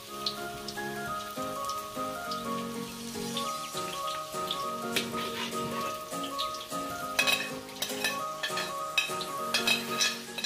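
Garlic and onion sauté in a wok, giving a constant crackling sizzle with light stirring under steady background music.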